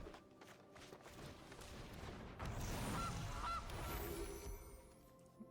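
Cartoonish goose honks from the Magic: The Gathering Arena digital card game, two short nasal calls in quick succession midway through, set over a steady bed of game music and ambience.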